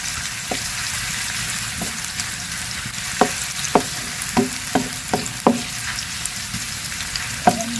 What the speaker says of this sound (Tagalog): Tinututukan pa talaga yung paggigisa natin